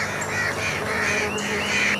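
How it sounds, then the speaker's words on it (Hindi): Several crows caw loudly and repeatedly in harsh overlapping calls as they mob and attack owls, a steady agitated clamour with no talk. "कौओं ने उल्टे उन पर धावा बोल दिया।"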